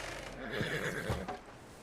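A horse in Red Dead Redemption 2 gives a wavering, close whinny lasting under two seconds, heard alone over a low background hum.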